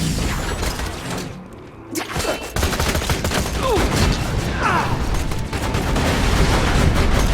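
Rapid turret gunfire in Borderlands 2 during the Headhunter DLC, a dense, loud stream of shots with mechanical clatter and booms, briefly dropping out before resuming at full intensity.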